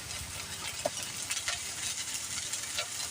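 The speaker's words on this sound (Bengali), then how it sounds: "এটাকে তেলে একটু সুন্দর করে কষাই নিতে হবে।" A paste of onion, cumin and dried chili frying in oil hisses and sizzles steadily, with a few soft scrapes of stirring, close and moderately quiet, no talking.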